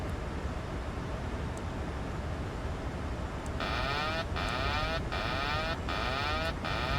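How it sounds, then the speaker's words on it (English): A cockpit alarm in Microsoft Flight Simulator 2024 sounds as a repeating, pulsed electronic tone with several short, evenly spaced bursts. It starts partway through and rides over a steady, loud cabin and engine rumble. "Only how to turn that alarm off."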